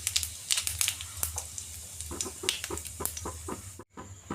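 Dried red chillies, bay leaves and whole cumin crackle and sizzle in hot oil for a tempering, giving rapid irregular pops and snaps over a low steady hiss, close and moderately loud.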